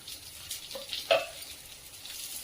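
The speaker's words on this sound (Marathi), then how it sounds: "कांदा परतत आल्यानंतर त्यामध्ये थोडस तेल टाकून घ्यायचं आणि पुन्हा एकदा कांदा छान असा परतून घ्यायचा आहे" Onion sautéing in oil for an egg curry, a soft steady sizzle with a brief scrape of stirring near the middle, fairly quiet and with no voices.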